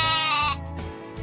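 A lamb bleats loudly and close by in one sustained, wavering cry that trails off, heard alone with no talk.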